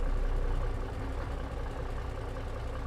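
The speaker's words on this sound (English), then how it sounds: "letting people listen to the sound of this engine because it's that damn good" Cummins Big Cam diesel truck engine idling in a modded logging game, a steady deep rumble with a dense, even low drone and no voices.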